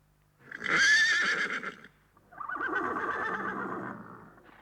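A horse whinnies twice, loud and close: a shrill, quavering neigh, then a longer, lower one, as from a street horse of the horse-drawn omnibus era.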